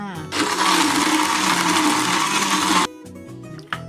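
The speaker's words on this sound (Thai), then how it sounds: "เรียบร้อยแล้วปั่นให้ละเอียดเลยค่ะ" A kitchen blender whirs loudly and steadily, crushing ice with young coconut water, fresh milk and a pinch of salt, then shuts off abruptly, leaving a few faint clinks.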